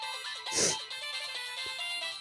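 A short burst of a Samsung SGH-X450 mobile phone ringtone, a bright electronic tone with a louder swell early on, close and loud with no voices.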